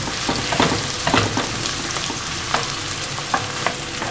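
Onion, ginger and garlic frying in a pan, giving a constant loud sizzle broken by regular scraping stirs, with no voices.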